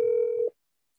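A telephone gives a single steady electronic tone for about half a second while a call is being dialed, then it cuts off abruptly into silence.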